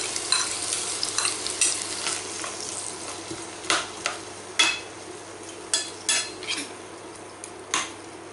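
Onion, garlic and mushrooms sauté in a pan with a steady close sizzle, overlaid by a series of scraping stirs and light metallic clinks of a utensil against the pan.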